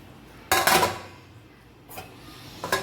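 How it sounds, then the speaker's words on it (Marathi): A metal lid clatters and scrapes onto a cooking pot of egg biryani, with a loud rattling burst followed by two shorter clinks as it settles into place. "आता ह्याच्यावर झाकून ठेवते मी झाकते"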